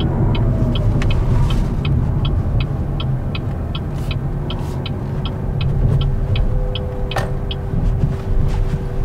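A BYD Dolphin Standard Range electric car drives along a road, giving a steady rumble of road and tyre noise throughout, with a faint regular ticking, like a turn indicator, clicking evenly over the hum.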